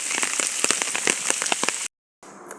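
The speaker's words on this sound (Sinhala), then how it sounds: "මේ වෙලාව වෙනකොට හොඳටම වැස්ස" Heavy rain falls in the misty Rajarata region, a dense, steady patter with many sharp drop impacts close by, then it cuts to brief silence before resuming more faintly.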